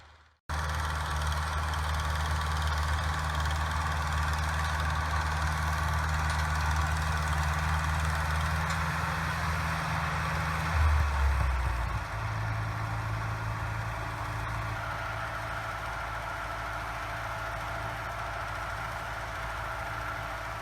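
A tractor engine drones steadily and loud at close range while planting field corn at sunset, its low pitch shifting audibly partway through and then holding steady.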